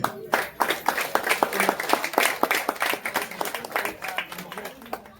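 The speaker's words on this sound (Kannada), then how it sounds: "ಜೋರದ ಚಪ್ಪಾಳೆ." Audience at a felicitation ceremony honoring a retiring community association president claps in a scattered, uneven burst of individual hand claps, fairly close and moderately loud, lasting several seconds with no speech over it.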